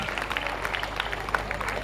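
An audience at an indoor stage event breaks into steady scattered clapping, continuous and moderately loud for a couple of seconds, with a voice faintly underneath.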